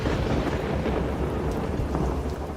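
A thunderstorm with heavy rain pouring steadily and deep rumbling thunder rolling underneath, loud and continuous throughout with no voices.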